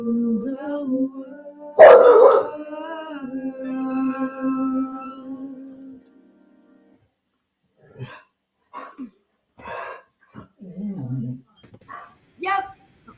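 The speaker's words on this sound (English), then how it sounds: "today is the day for doggy eruptions" A dog lets out a drawn-out yowling, howling bark up close, then goes quiet before a person starts speaking in short phrases.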